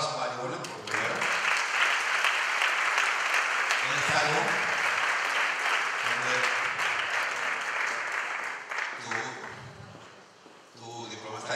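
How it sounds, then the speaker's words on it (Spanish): An awards audience at a Kapyderm laboratories prize ceremony applauds for Ivone, dense clapping sustained for several seconds and then thinning out as a voice speaks over the end. "un aplauso para Ivone"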